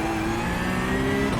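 Racing car engines rev loudly and continuously in a sim racing game, a sustained close mid-pitched engine whine with rising and falling tones and no speech over it.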